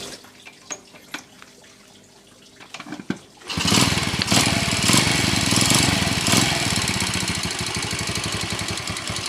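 A Yamaha Jupiter Z motorcycle engine, a farm-use bike, starts up after quiet handling noises and runs loud and rough close by, with a steady uneven idle that fills the rest of the clip.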